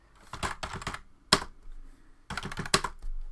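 Typing a chmod command on a computer keyboard, two quick clusters of close, crisp key clicks separated by a sharp single keystroke and brief pauses.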